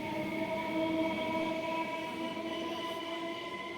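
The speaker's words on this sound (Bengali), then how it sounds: "আমাদের ট্রেন এসে গেছে।" A train pulling into Sealdah station at night, heard as a steady rumbling roll with a sustained metallic whine and drone, moderately distant and continuous, with no voices.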